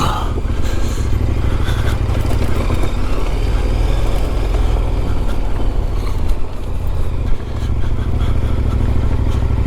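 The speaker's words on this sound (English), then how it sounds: "Good thing we got a 500-pound motorcycle today." A heavy 500-pound adventure motorcycle engine roars steadily at close range for the whole stretch, with rumble and road clatter beneath and no letup.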